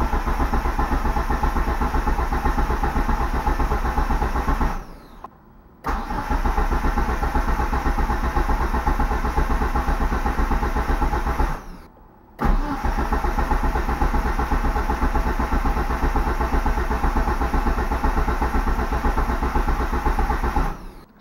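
A DSM car engine cranks over continuously to build oil pressure, a steady loud rhythmic starter churn in long stretches broken by two short pauses, with no speech.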